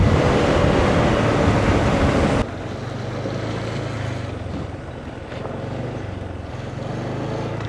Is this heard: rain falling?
yes